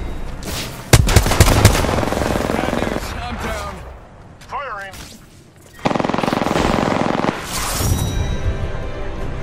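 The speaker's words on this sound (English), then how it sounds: "Shots fired, and they're hitting me." Bursts of gunfire in the Apex Legends battle royale shooter, loud sharp shots opening the stretch and returning as dense sustained firing later, with game sounds and a voice in between.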